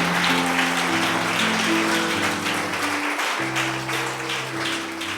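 A church congregation claps and cheers continuously, a dense wash of applause with sustained held tones, likely music, running through it.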